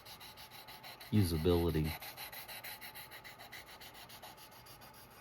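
Sanding along the edge of a leather mini wallet, a brief rough rubbing burst lasting under a second, then fainter light scratchy strokes against quiet room noise.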